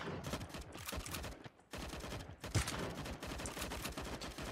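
Rapid gunfire from the Sausage Man shooter game, dense bursts of automatic shots running almost continuously with a brief pause in the middle, loud and close.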